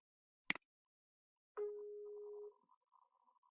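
Skype outgoing call ringing tone: a soft click, then a single steady electronic tone lasting about one second, followed by faint quieter blips, with no talking.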